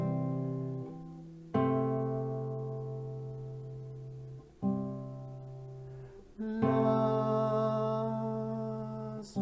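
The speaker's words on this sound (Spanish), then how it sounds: "Este sexto grado suena así." Sustained pitched notes, likely piano, spell out the sixth degree of a major scale resolving toward the fifth, several struck tones ringing and decaying quietly and clearly with no voices.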